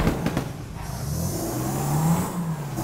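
A car engine revving in APB Reloaded, a close mid-pitched engine drone that climbs and surges steadily, following a few quick impacts at the start, with no voices.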